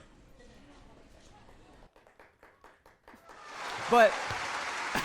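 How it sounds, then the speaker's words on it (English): A few sparse, rhythmic claps grow into a dense burst of group applause with cheering, following a short stretch of speech. "give yourself a round of applause"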